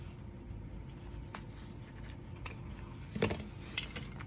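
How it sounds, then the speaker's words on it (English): Scissors cutting small holes in fabric for a kippah-style face mask, a few faint close snips and scrapes in a quiet room. "now we can get our scissors in there"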